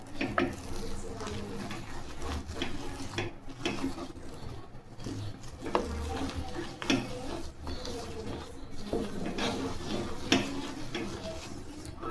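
A spoon stirs semolina into boiled salted water in a pot, giving soft irregular scraping and knocking strokes against the pan, close and fairly quiet over faint background hiss.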